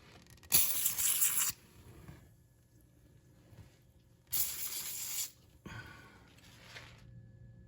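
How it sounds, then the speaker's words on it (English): Two bursts of aerosol penetrating spray hiss onto bolts on a Honda Pilot's sway bar links, each about a second long, then a shorter third spritz, close up against a quiet background. "I am gonna hit all these with a little penetrating spray to try and help loosen them up."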